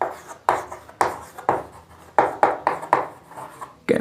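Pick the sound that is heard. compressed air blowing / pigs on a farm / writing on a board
writing on a board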